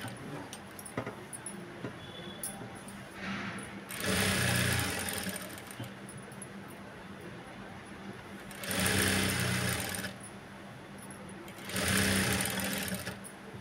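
A sewing machine stitches a Punjabi dress top in three loud bursts of fast whirring, separated by quieter stretches of handling and fabric rustle, close up and without speech.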